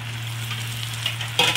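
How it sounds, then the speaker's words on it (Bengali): Carrots, capsicum and green chillies stir-fry in oil in a pan, a steady close sizzle with a low hum beneath, ending in a brief louder burst of frying as they are stirred. "সঙ্গে কাঁচা লঙ্কাগুলো দিয়ে দিলাম, দিয়ে ভালো করে নাড়াচাড়া করে দিলাম। এগুলোকে ভালো করে ভেজে নিই।"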